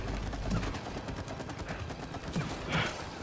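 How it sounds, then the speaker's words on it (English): Rapid gunfire in the co-op video game It Takes Two, a fast crackling fusillade of shots running continuously over game background noise, no voices. "I'm shooting him."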